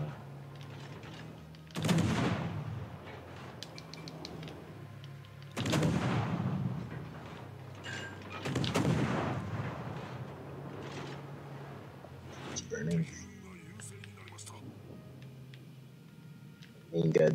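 Warship guns and secondary batteries fire in the World of Warships game: several loud booming salvos roll out every few seconds. Each one has a long, rumbling tail, and a player talks over them.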